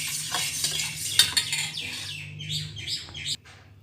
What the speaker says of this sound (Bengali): তো আমি এখন এটাকে ভালো করে মিশিয়ে নেব।